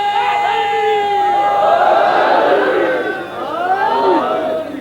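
A large crowd at a religious gathering chants a slogan together, a loud sustained swell of many voices rising and falling in unison for several seconds.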